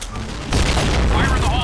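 A grenade blast in the shooter game Point Blank hits with a sudden loud, low boom partway through, then a dense rumble of explosions and gunfire that sits under a player's voice.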